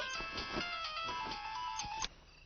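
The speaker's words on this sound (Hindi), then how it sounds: "इतनी रात गए फोन कर रहा है लकी तू?" An electronic phone ringtone plays a repeating melodic pattern for a couple of seconds, then cuts off abruptly.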